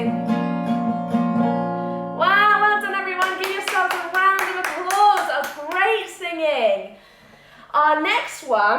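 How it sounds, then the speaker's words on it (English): Children at a Superhero Academy holiday club clap together after a song, a run of close, uneven claps mixed with lively kids' voices and cheering, with an adult's voice speaking first. "Give yourselves a round of applause."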